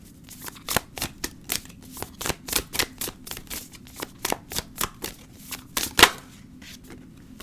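Tarot cards riffled and drawn from a deck in a series of crisp, close flicks and snaps at an uneven rhythm, with one sharper slap near the end and no talking.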